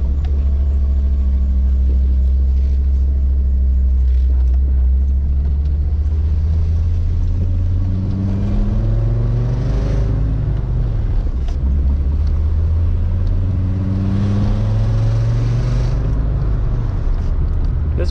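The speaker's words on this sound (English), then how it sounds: "First POV drive in the good old Savoy" A VR5 Savoy car engine drives up a steep hill, its loud, deep drone holding steady and then climbing in pitch through repeated rev rises over about eighteen seconds.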